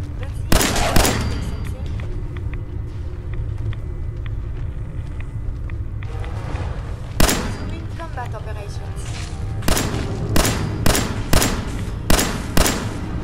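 Gunfire in Fallout 4 aboard a submarine against ghouls: loud single shots and a run of rapid bursts over a low rumbling ambience, with speech heard briefly.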